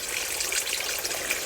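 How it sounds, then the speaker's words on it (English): A small natural waterfall pours into a rocky pool beside a roadside cottage garden, giving a steady, close, rushing wash of water with no other sound. "you see how the force of the little natural waterfall has scooped out a pool"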